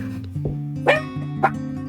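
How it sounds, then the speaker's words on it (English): A dog at home barks twice, close and fairly loud, over a steady low background hum, with no talking. "Now you've actually heard my dog."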